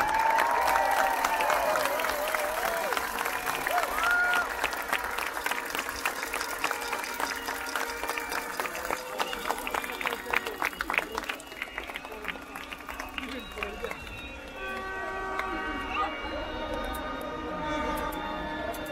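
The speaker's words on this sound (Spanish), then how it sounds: "Despidámonos con un fuerte aplauso." A large crowd applauds loudly at the Independence Day Grito celebration in Tijuana, Mexico, dense clapping that gradually thins and fades toward the end.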